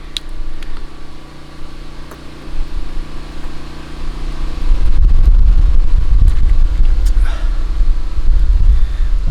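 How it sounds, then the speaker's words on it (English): A generator runs outdoors near a nest-box building site, a low steady engine drone that grows louder and rougher partway through, with wind buffeting the microphone. "So you guys could probably hear the generator in the background."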